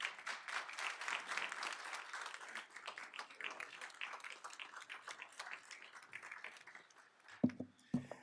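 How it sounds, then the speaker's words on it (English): Steady applause at a school board meeting honoring two people, a room of hands clapping at a moderate distance, fading gradually before a few sharp nearby knocks at the end. "So a round of applause for Diane and John."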